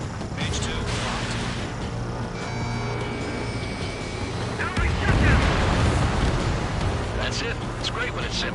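Enemy bomber exploding after being shot down in the Ace Combat 7 flight combat game, a broad rumbling blast swelling midway over continuous jet and game noise, with radio chatter from pilots running alongside.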